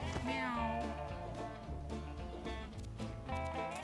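Several cat meows from the video game Mewgenics, rising and falling in a short run of calls, with a voice faintly underneath.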